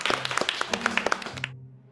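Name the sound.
audience applause welcoming a performer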